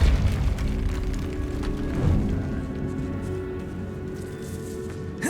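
Depulso spell cast in Hogwarts Legacy inside a decayed catacomb, a deep booming burst followed by a long rumbling tail that slowly fades.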